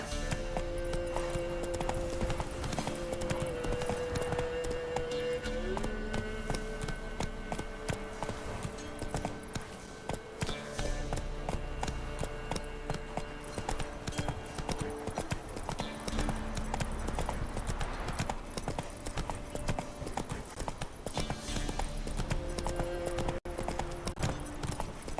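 In The Witcher 3, the horse Roach trots with steady, rhythmic clip-clop hoofbeats. Game music plays continuously underneath, and the hooves stay at a constant moderate level throughout.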